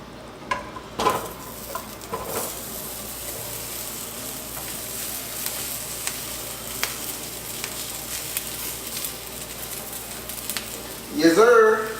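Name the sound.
Brussels sprouts sizzling in a hot skillet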